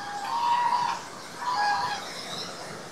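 Two short nasal honking calls from birds nearby, each lasting about a second, separated by a brief pause over faint outdoor background noise.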